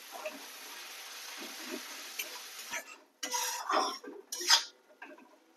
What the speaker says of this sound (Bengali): সামান্য একটু মশলার মধ্যে জল দিয়ে দেবো। জল দিয়ে ভালো করে কষিয়ে নেব।